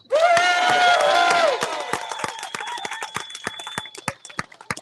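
Ocean rowers finishing their race in Antigua after setting out from La Gomera are greeted with applause. A loud sustained cry or horn opens, then a crowd's scattered, uneven claps continue, thinning toward the end.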